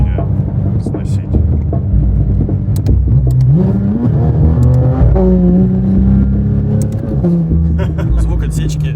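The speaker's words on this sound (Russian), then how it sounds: "Звук отсечки прикольный." A Porsche 911 GT3 RS engine revs hard against the rev limiter while winter drifting, its loud, rising and stuttering engine note running continuously close to the microphone with a voice speaking over parts of it.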